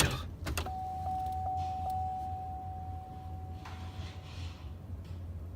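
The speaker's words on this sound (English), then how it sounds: "I hear the motor working down there." Electric shift motor on the transfer case of a 1999–2007 GM 4x4 truck, heard from the cab as a faint whine running a few seconds after a couple of clicks, with a steady low hum underneath.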